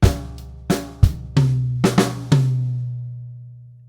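Drum kit bar ending in a two-beat fill on snare and high tom from a grade 4 rock and pop lesson piece: six or seven clear, close hits in a steady pulse, the last tom note ringing out and fading, with no talk.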